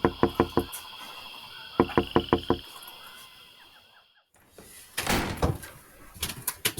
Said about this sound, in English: He's knocking on the window.